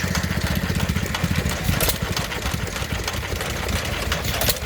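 A small American stationary engine of about 1.5 horsepower chugs steadily at an outdoor Victorian fair, its rapid even firing beat close and loud against a busy background.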